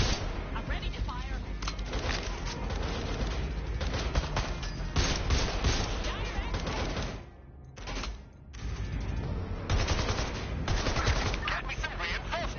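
Sustained bursts of gunfire in Watch Dogs: Legion, dense crackling shots packed together with brief lulls, loud and busy alongside voices and game noise.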